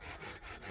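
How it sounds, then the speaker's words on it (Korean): A hand saw cuts through firewood at a mountain-valley house, giving a brief, faint rasp of rough back-and-forth strokes. "잘한다, 톱질."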